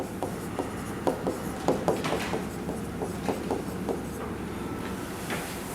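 Chalk or marker scratches and taps on a board as an ether formula is written in a chemistry lesson, a series of short irregular strokes over a steady low background hum.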